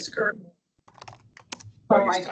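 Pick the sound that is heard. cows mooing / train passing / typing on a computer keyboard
typing on a computer keyboard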